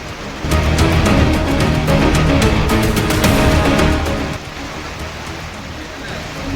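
Heavy monsoon downpour, a loud, dense roar of rain hammering surfaces that holds strong for several seconds, then drops to a softer but still continuous wash.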